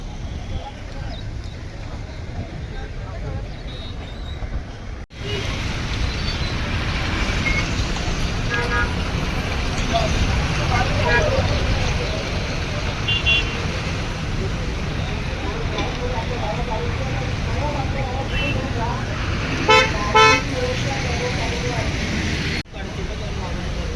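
Rally vehicles heading toward Jasai village pass by in a steady roadway rumble, with scattered horn toots, loudest around the middle and near the end, while people talk nearby.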